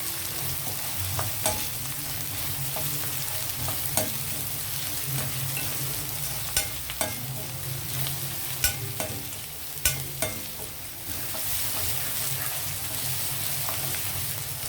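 Chicken curry being stirred in a pan with ginger-garlic paste, a continuous loud sizzle and frying hiss with repeated sharp spatula scrapes and taps against the pan.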